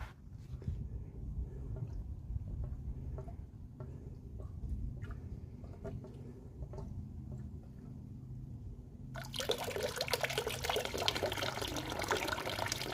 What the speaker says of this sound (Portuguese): tá caindo água aí, circulando a água.